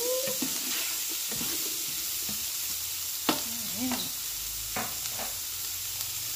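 Beyond Meat crumbles and peppers sizzle steadily in a hot pan, a continuous crackling fry with a few soft scrapes and stirring clinks, no voices.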